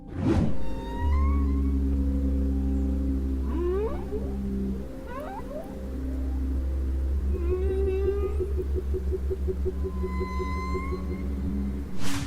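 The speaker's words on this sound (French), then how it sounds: "Le chant de la baleine bleue est le son le plus grave produit par tout animal" Blue whale song in the ocean: deep, sustained low moans with slow rising and falling calls layered over a continuous rumbling drone, steady throughout with no voices.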